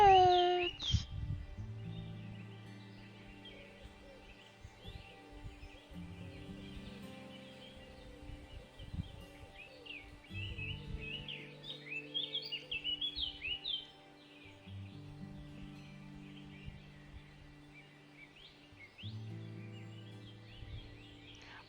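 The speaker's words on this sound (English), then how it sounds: "I hear birds." Birds chirp in a video game, scattered high tweets repeating steadily over a low ambient drone, with soft intermittent musical tones and faint clicks underneath.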